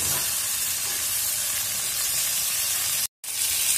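Onion and a Duroc pork short rib frying in a pan, with a loud, close, continuous hissing sizzle that drops out briefly near the end and then resumes.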